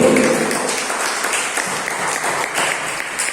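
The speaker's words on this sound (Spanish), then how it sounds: "Denle un fuerte aplauso a Jesucristo" A congregation at a Wednesday church service gives a loud, sustained round of applause for Jesus Christ, a dense even wash of clapping with brief vocal tones at the start.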